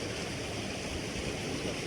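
Flood water draining through a beaver dam, a steady broadband rushing and gurgling like a stream, continuous and fairly faint, with no voices.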